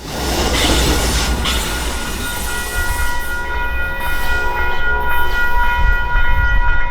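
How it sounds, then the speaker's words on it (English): Amtrak 244 passes at Peekskill with Phase 2 Heritage locomotive 130 on the rear, a loud close rumble of railcars with squealing wheels and a sustained tonal ring that fades out. "we arrived in Peekskill just in time for Amtrak 244 with their Phase 2 Heritage locomotive number 130 on the rear"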